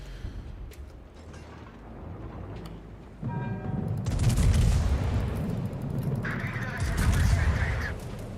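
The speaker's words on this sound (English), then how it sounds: "He's still firing his guns." Naval guns booming in World of Warships, a rolling series of heavy, rumbling blasts building in loudness with overlapping explosions, while people talk over the battle.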